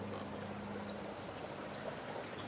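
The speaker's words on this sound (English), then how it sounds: "They both have water flowing." Water runs quietly through a self-refilling hydroponic system, a faint continuous trickle and pour with a low steady hum beneath it.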